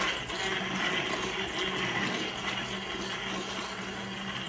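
A blender purees squash and potato soup with a steady, loud, continuous whir that holds evenly from start to finish, with no talking.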